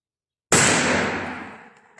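A single loud, close shotgun blast from a 12 gauge Tikka M77 cracks sharply after a moment of silence, then its echo rings and slowly fades away.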